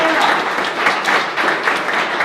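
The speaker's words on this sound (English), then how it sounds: "Give them a round of applause." Applause from a live studio audience on a local talk show, steady clapping with a few whoops throughout, loud and close with no break.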